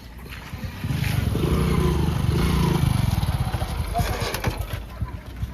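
A nearby motorcycle engine throbs and swells, holding a steady chug before easing off as the bike is pushed aside, with a faint voice at moments.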